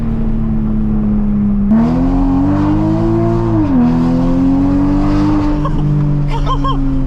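A Toyota Supra engine revs hard and loud, its pitch climbing, dipping and settling while it is held at high RPM. A few sharp exhaust crackles and pops come near the end.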